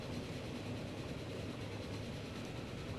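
A steel train runs steadily along the rails in Transport Fever 2, a continuous low rumble and rush that stays constant and fairly faint.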